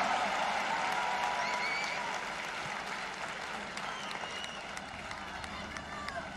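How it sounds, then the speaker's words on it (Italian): Sustained audience applause for an orchestra at a televised Italian music show, dense and loud throughout with steady crowd clapping filling the space. "Vogliamo fare un applauso a questa meravigliosa orchestra"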